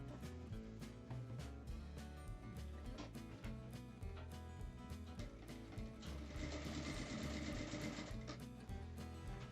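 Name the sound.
sewing machine stitching seam along bag edge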